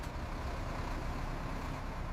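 A city bus pulling away from a stop, its engine a steady low rumble that holds at moderate distance without pauses or voices.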